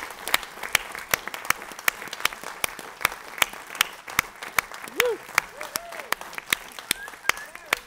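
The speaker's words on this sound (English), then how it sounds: "So, big round of applause for Art and Wine." Thin, evenly spaced claps from a small audience at a literary cabaret evening at the Lime Tree Theatre, sharp and steady for the whole stretch, with a faint voice and brief tonal sounds underneath.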